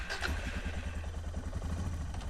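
A Suzuki DR650 motorcycle's single-cylinder engine runs close by with a steady low throbbing putter, even and continuous.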